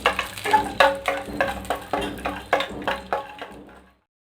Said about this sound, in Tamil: நெய் வந்து நல்லா சூடானதுக்கப்புறமா வந்து இந்த முந்திரி, திராட்சை, ஏலக்காய் இதெல்லாம் வந்து நம்ம போட்டுக்க வேண்டியதாக ஒவ்வொன்றா